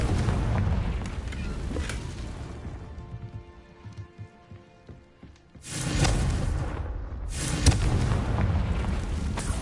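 Explosive bursts of the Confringo fire spell in Hogwarts Legacy boom out, a dense blast, then a quieter stretch with tonal game sounds, before two more loud eruptions follow.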